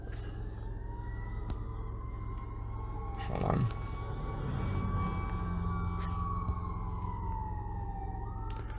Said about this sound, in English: It is another fire truck.